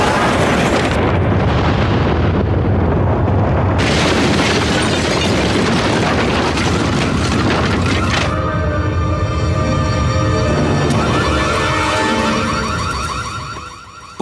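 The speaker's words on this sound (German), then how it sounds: "explodieren die Geldbündel." A loud explosion of money bundles in a radio drama roars as a dense, sustained blast of noise, then settles into a ringing, alarm-like tonal texture that fades out at the end.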